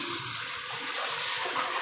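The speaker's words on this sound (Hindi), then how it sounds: "अब इसके अंदर हल्का सा पानी का छींटा लगाएंगे ताकि जो हमारा मसाला है वो जले ना।" A splash of water hits spices frying in a pan for a potato and egg curry, giving a steady hissing sizzle that swells slightly toward the end, with no talk.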